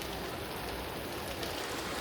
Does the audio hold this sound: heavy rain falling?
yes